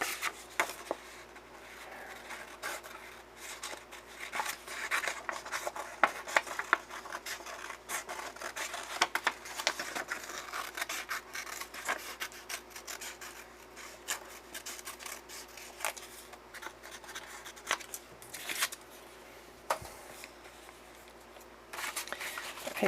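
Stamping foam shapes being cut out by hand, giving steady close rasping and rubbing scissor strokes that repeat irregularly throughout, with no talking.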